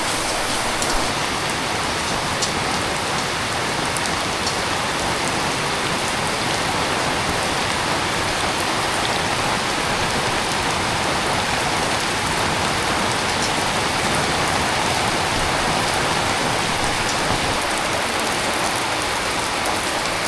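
Heavy rain pours down in a dense, unbroken roar on surfaces nearby, steady and loud throughout with no voices.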